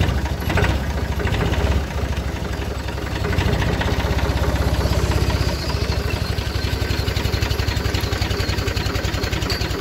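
A Massey Ferguson 135 tractor diesel engine cranks and catches, then runs loud and close with a rough, steady rhythmic chug throughout.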